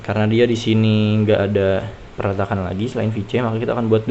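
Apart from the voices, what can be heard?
No distinct noise like a dog, phone or traffic.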